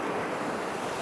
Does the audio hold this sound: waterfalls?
yes